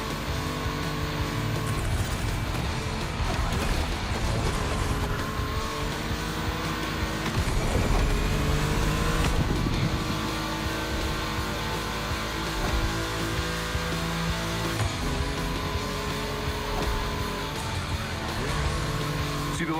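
A video-game Audi Quattro tuned to 800 horsepower roars continuously at close range, its engine revving and surging with tire squeal mixed in, loud and steady throughout with a faint voice underneath.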